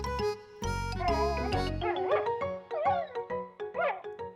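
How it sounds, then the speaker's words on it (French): A small female cartoon dog yips and barks in quick, bright, bouncy bursts over tonal music, lively and close with short gaps between the barks. "Snuffy, la petite chienne."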